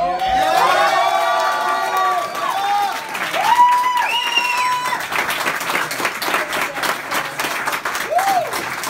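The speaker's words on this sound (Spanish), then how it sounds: "Bueno, un fuerte aplauso." An audience at a battle-of-the-bands award ceremony claps and cheers with whoops and shouts, while a high voice sings or calls out over the noise.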